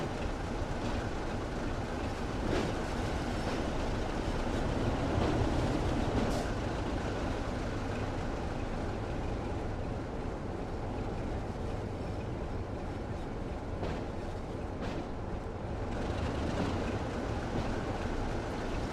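A simulated train running on the West Somerset Railway in Train Sim World 2020 gives a steady, continuous rumble of wheels and carriage noise, with faint rail clicks and a few brief higher squeals along the way.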